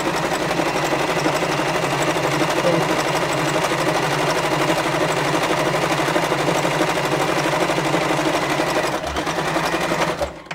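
A sewing machine runs steadily stitching a zigzag, a loud, continuous rapid mechanical whir with a dense rhythmic chatter that holds for about nine seconds before slowing and stopping near the end.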